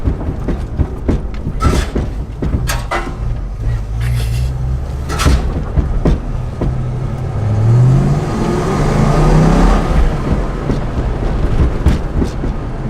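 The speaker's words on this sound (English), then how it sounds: "This is where drifting a V8 is painful." A V8 drift car's engine revs up and down, loud and close inside the car, with a rising roar in the middle and knocks and clunks scattered throughout.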